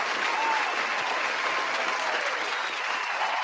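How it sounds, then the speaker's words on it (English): Steady round of applause from a crowd, dense continuous clapping at even loudness for several seconds, with no voices standing out. "Can we give this team a round of applause?"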